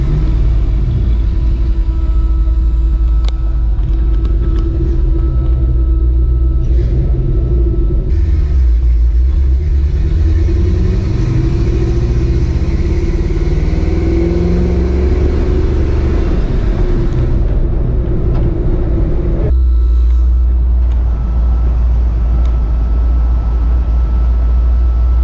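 A 1955 Ford F100 truck drives on a test run, its engine a loud, continuous low rumble heard from inside, with gear changes and rising revs mid-way before settling back.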